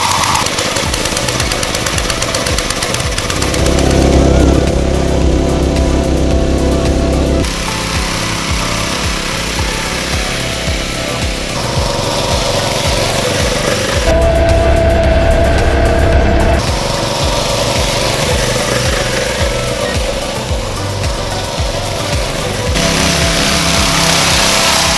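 A homemade motorized handcart tank with a self-built clutch and no tracks fitted drives along outdoors, its small engine droning and rattling loudly, with changing pitch and load across the run.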